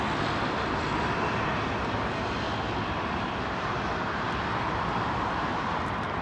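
An airliner departs Heathrow runway 09R, a loud sustained jet roar rumbling steadily throughout, near and dominant with no other sounds.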